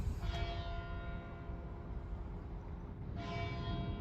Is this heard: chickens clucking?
no